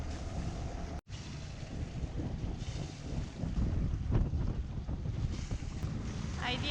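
A Hallberg-Rassy 54 sailboat motoring under engine power, giving a steady low drone mixed with wind buffeting and water noise, fairly quiet and continuous, with no talk.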